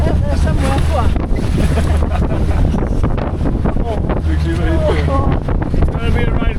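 A small boat pounds through rough Antarctic water on the way back to a cruise ship, with loud continuous wind buffeting the microphone, engine drone and splashing waves, while people talk over the din.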